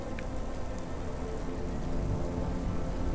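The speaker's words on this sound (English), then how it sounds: "You hear the rain." Steady rain falls in the Cloudpunk video game city, a constant broadband hiss with low rumbling underneath, continuous and even throughout with no voices.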